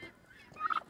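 A turkey on a farm lets out a short, bright gobbling call near the end of a quiet moment, close and moderately loud against faint background noise.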